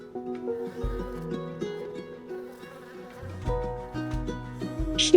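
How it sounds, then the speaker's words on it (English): A bee trapped in a glass buzzes in uneven, fluttering bursts that rise and fall in pitch, close and fairly loud, alone without talk. "As Jade studied the bee trapped in the glass, she noticed its tiny legs twitching nervously and its"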